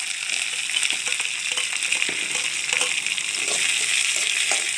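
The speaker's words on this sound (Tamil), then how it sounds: "இப்படி நல்லா வெங்காயம் நல்லா வதங்கிடணும், கலர் சேஞ்ச் ஆகிற அளவுக்கு வதங்கிடணும்" Finely chopped onions sauté in a pan with a steady, bright hiss of frying, close and continuous, broken by faint stirring scrapes.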